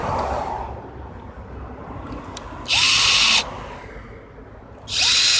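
A DrillMaster 18V 3/8-inch cordless drill whirs in two short bursts, each a loud, high motor whine of about a second with a brief spin-down, separated by quiet room tone.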